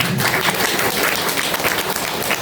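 Wedding guests at a Nepali Christian ceremony break into dense, continuous applause, many hands clapping together loudly and close throughout.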